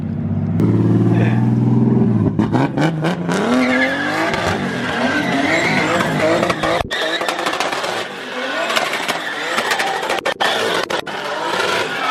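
Drift cars screeching their tires under loud revving engines at a drifting event, a continuous close roar of squeal and engine noise with brief cutouts, with no talk.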